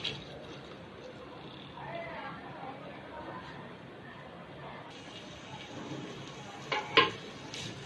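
Finely chopped onions sizzle as they go into about half a cup of hot oil for beef qeema masala, with a steady close frying hiss and a sharp clatter of a utensil near the end.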